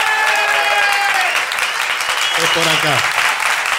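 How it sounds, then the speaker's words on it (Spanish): A theater audience at a live show gives a loud, sustained ovation of dense applause, with a voice speaking briefly over it. "Vamos a saludar con una ovación inolvidable"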